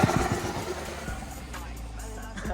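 Ford Fiesta ST Mk8 turbo hatchback on a test drive, its engine droning steadily with a brief turbo whoosh and flutter near the end, heard close from inside the car.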